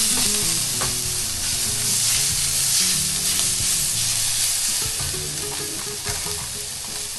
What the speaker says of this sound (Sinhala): ඔන්න දැන් ඉංග්‍රීසි සුදුලුණුයි කලවම් කරනවා.